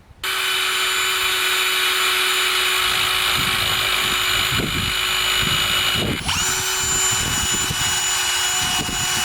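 Power drill spinning a 3M eraser wheel to strip decals and pinstripes from a car's paint makes a loud, continuous high whine that holds steady, with a brief pitch shift partway through.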